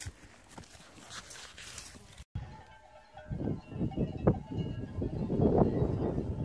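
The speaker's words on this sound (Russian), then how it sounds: "Ускакала в поле молодая лошадь." Horses gallop off across an open field, their hoofbeats faint at first and then building into a louder, uneven drumming that stays fairly distant, with wind noise and no talking.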